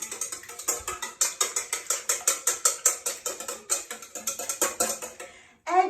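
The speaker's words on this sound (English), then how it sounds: "Now I'm going to whisk the egg." An egg being whisked in a bowl, the whisk clinking against the sides in a steady, rapid rhythm of around thirty strokes, close and fairly loud, ending in a brief louder scrape.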